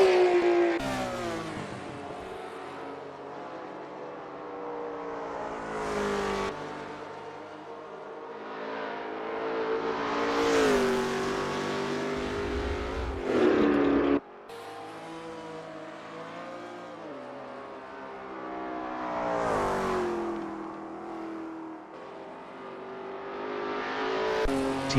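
A Pantera GR4 race car in a GTR racing video game at the Deutschlandring circuit: a continuous engine roar climbs and falls through repeated rev changes and gear shifts, with no talking.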